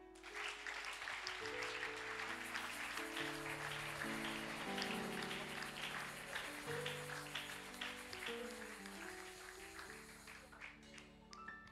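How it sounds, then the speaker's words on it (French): A church congregation applauding during a French sermon, with a dense, sustained clapping burst that fills the hall, alongside sustained organ-like tones and voices. "Acclamons la parole."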